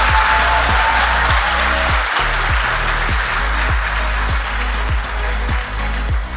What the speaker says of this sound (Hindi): इतनी तालियां बजती हैं